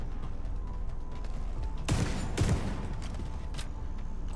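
Shotgun fire in The Division 2 video game, with two sharp loud blasts close together over a steady background of game ambience.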